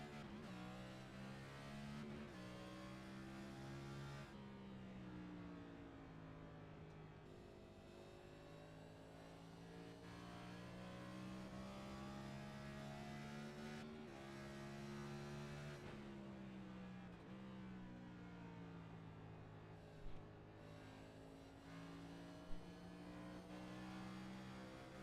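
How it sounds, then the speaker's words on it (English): In a racing video game, a stock car engine drones at Richmond Raceway under a continuous onboard ride, its pitch rising and falling as the throttle is worked through the corners. "you can really hear Dixon playing with that throttle, especially coming out of two as he gets over that transition"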